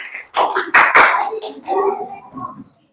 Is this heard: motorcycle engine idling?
no